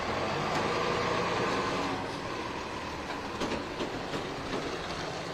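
A truck passes by at a roadside scene where deputies face a barricaded suspect in Lillian, a loud, broad rumble and rattle that eases slightly after two seconds and carries on steadily.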